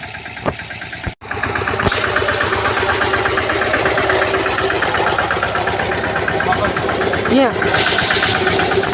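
A pesticide sprayer's engine idles and chugs with a steady knocking rhythm after a sharp start-up, loud and near, while people talk over it in the background.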